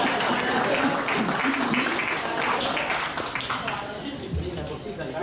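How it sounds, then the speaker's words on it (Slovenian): A crowd at an award ceremony at a furniture fair applauds, a steady wash of clapping that fades after a few seconds, with a voice speaking over it. "Jaz mislim, da ste čisto premalo glasno zaploskali za največjo nagrado."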